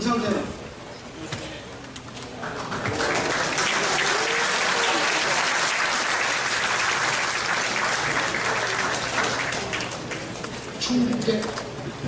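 Sustained applause from a crowd at a rally of national university professors, rising after a couple of seconds and holding steady and loud for most of the stretch, with a speaking voice briefly heard at the start and near the end.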